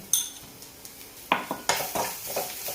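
A spoon stirs a paste of green chili, ginger and garlic in a pan, giving a few sharp metallic scrapes and clinks followed by a run of quick stirring knocks over a faint sizzle.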